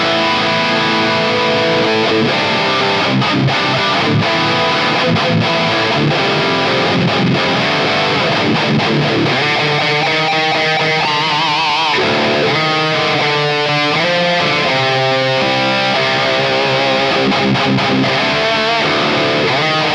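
A Harley Benton Fusion EMG HT Roasted electric guitar plays through high-gain distortion, loud and dense, with chugging rhythmic chords and sustained notes that go on continuously without any speech.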